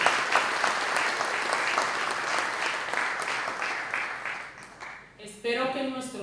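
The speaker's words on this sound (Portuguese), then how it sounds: "Y eso merece un aplauso." Audience applause at a closing session of an integration support programme in Equatorial Guinea: dense, steady clapping from a crowd for about five seconds, fading out before a voice begins speaking.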